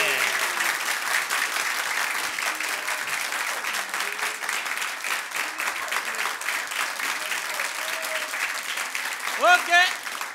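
An audience at a comedy show applauds in a sustained, moderately loud burst of clapping, with voices rising over it and a brief whooping or shouted cheer near the end.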